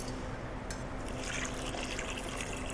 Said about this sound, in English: you're going to throw in your 4 cups of water with your bouillon cube